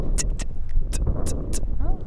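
Voice imitating a hi-hat in beatbox style, a series of short crisp hissing ticks repeated at a steady pace, close up over a continuous low background rumble.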